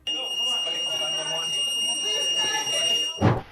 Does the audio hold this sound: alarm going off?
yes